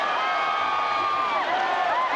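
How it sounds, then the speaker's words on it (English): A large football stadium crowd in South Carolina roars continuously during a 1993 Alabama at South Carolina game, a broad, sustained wash of cheering and whistles with a commentator's voice faintly over it. "Listen to the crowd now as they're trying to get their football team in this ball game."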